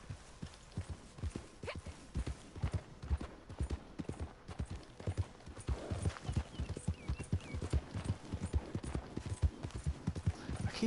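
Steady clip-clop of a horse's hooves trotting at an even rhythm in the video game Red Dead Redemption 2 Online, close and continuous, with a faint hum in the background.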